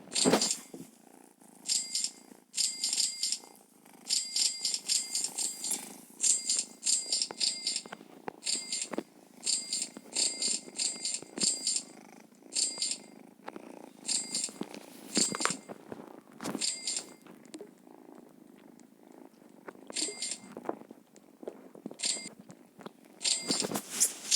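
A cat purrs close by, steady and rumbling, broken by frequent bright metallic jingles and clinks in bursts throughout.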